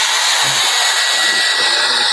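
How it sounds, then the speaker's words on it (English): Blow dryer drying freshly brushed chalk paint on furniture, a loud continuous whooshing roar with a steady pitch, close to the microphone and running alone throughout. "I think I'm gonna hit it with the blow dryer. So this is gonna be really noisy."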